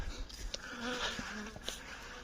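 Honeybees buzz around stacked beehives in an apiary. A dense, close swarm drone rises and falls as individual bees pass near, with a few soft handling knocks underneath.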